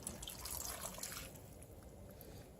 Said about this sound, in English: I'm adding 2 more cups of broth